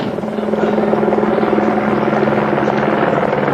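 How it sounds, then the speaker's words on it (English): Police helicopter hovering overhead, a loud steady rotor thrum with a rhythmic chop that continues unbroken throughout, with no voices over it. "The helicopter guides him to the exact spot."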